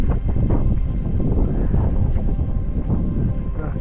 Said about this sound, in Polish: Ale wiatr jest nieprzyjemny, przenikliwy.